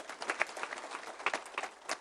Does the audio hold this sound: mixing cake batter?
no